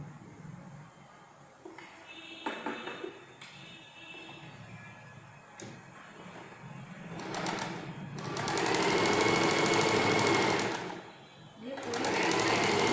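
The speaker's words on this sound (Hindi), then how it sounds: "यहाँ पे सिलाई देनी है पूरे पे, एक सिलाई आपको इस पे देनी है" A sewing machine stitches the back piece of a blouse in bursts of rapid mechanical chatter that start and stop, growing longer and louder toward the end.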